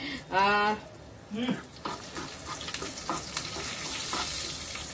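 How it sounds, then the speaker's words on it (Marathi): Chillies, mustard seeds, asafoetida and curry leaves fry in hot oil in a pan, a steady broadband sizzle with small spits and pops; a brief voice speaks near the start. "इथे आपण पॅन मध्ये सगळं मिरची आणि मोहरी हिंग वगैरे सगळं घातलेलं आहे."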